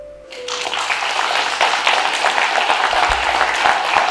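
Audience applause at a Shevchenko poetry recitation contest, breaking out after a short quiet start and holding as a steady, dense wash of many clapping hands for the rest of the moment.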